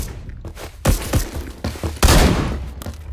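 Loud gunfire blasts from a shotgun in a first-person shooter game, several heavy booming shots at irregular intervals with a big burst near the end, no talk.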